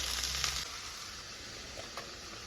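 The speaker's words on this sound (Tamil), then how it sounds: "வெங்காயம் கொஞ்சம் நல்லா வதங்கட்டும்." Onions and green chillies fry in hot oil in a pan, a steady close sizzle with a brief stirring scrape at the start and a faint tap later, no talk.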